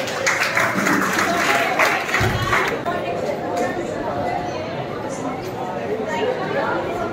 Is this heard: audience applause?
yes